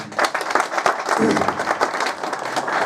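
A crowd applauds with dense, continuous clapping throughout, loud and close.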